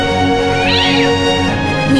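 An animated cat gives a clear, close, drawn-out meow with a rising and falling pitch over a busy musical background, with no talking.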